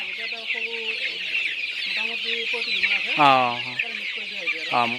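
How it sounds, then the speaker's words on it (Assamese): Chickens and young chicks on a local poultry farm cluck and chatter steadily nearby, with a louder squawk in the middle and another near the end over a constant chorus of cheeping. "ফাৰ্মৰ আৰু সৰু সৰু পোৱালি"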